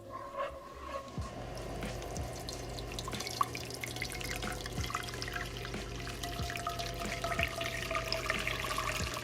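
Hot water from a kettle poured into a pot of chili broth for vegan pozole, a steady soft trickle and splash with scattered drips and light clinks in a kitchen, no talking.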